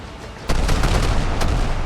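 Ship cannons in a pirate survival game fire a volley: a heavy boom breaks out of quiet, followed by a dense, sustained rumble with a few further sharp reports rolling over it.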